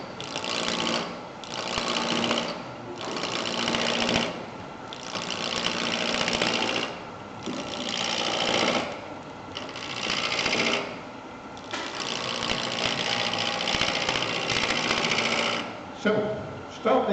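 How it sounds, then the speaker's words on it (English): A wood lathe turns a pommel, with the tool cutting in repeated loud bursts of scraping and chattering over the motor hum, separated by short pauses. "I'll stop the lathe in a minute and explain this to you."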